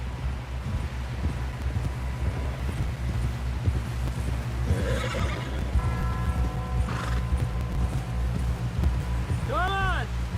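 In the game Red Dead Redemption 2, hooves clip-clop rhythmically over steady wind and rumbling noise as a horse runs, with a whinny near the end and voices speaking over it.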